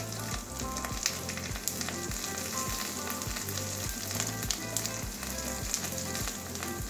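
Whole cumin seeds hitting hot oil in a pan make a steady, dense sizzle that crackles brightly and continuously, close and fairly loud, with a rhythmic low thumping beneath, and no voices.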